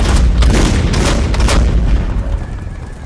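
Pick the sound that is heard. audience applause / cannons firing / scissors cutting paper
cannons firing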